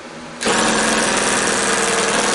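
After a quiet moment, a cordless drill with a weakening battery starts up and runs in a steady, close, loud motor drone that holds to the end.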